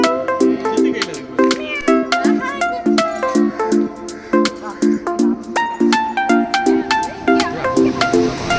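A cat meows repeatedly and insistently at close range. The loud, tonal calls come in a quick, uneven series and continue throughout, with a person speaking quietly underneath.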